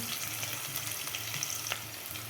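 Chopped onion fries in hot oil with a continuous, even sizzle and occasional stirring scrapes, close and fairly loud throughout.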